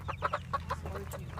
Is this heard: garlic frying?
no